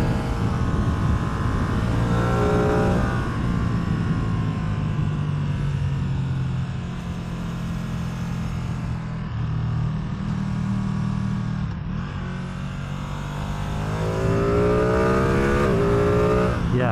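A 2024 Ducati Streetfighter V2 engine pulls hard through the revs, pitch climbing, dipping on shifts and rising again, loud and close throughout.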